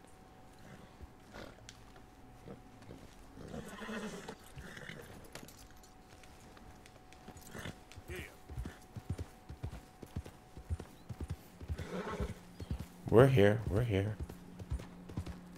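Horse hooves clip-clopping in Red Dead Redemption 2, irregular footfalls scattered through the clip, growing busier toward the end alongside a snort-like burst, with someone talking intermittently over it.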